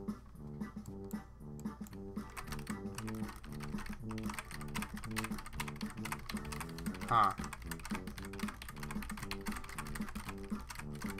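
Rapid computer keyboard typing while a video game plays, clattering steadily throughout over game music, with a brief voiced exclamation near the middle.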